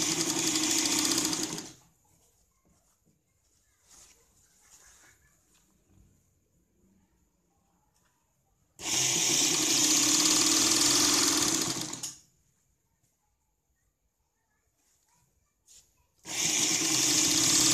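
A sewing machine running straight stitches along a blouse seam, loud steady whirring bursts close by, one at the start, a long run in the middle and another at the end, separated by near silence and faint handling.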